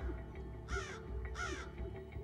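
Young crows cawing in a natural setting, two loud harsh caws spaced about half a second apart over a low ambient background, with no voices.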